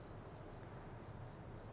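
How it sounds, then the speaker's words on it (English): Crickets chirp in a steady, high, continuous trill through a virtual Alpine Meadows scene, faint and even throughout with no voices. "I'll turn up the volume so you can hear the crickets in the background."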